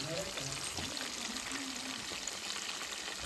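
Pieces of Chicken 65 fry in hot oil, giving a steady, dense sizzle with a continuous crackling hiss that stays even and close throughout.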